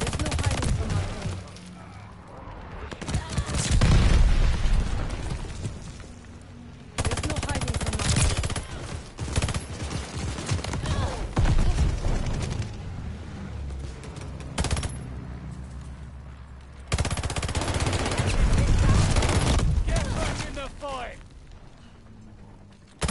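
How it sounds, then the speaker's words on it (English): Friendly bombing run in Call of Duty: Vanguard, with repeated loud explosions and rapid bursts of gunfire rolling in long, dense waves, broken by a few sudden cuts to quieter stretches. "I'm sending out a bombing run. Friendly bombing run. Deploy."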